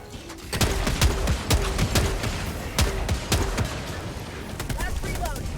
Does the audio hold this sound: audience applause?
no